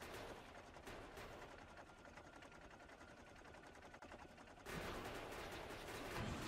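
In the game Factorio, a tank fires uranium ammunition, a dense rapid stream of loud bursts like machine-gun fire that carries on throughout and grows heavier toward the end.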